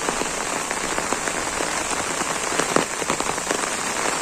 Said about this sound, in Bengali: যে বৃষ্টি হইলো, সারাদিন বৃষ্টি।